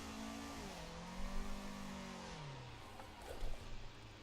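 A car engine in Assetto Corsa revs steadily under held throttle through a drift turn, its pitch sweeping down then rising again, with brief louder surges; the tone is continuous and moderately loud throughout.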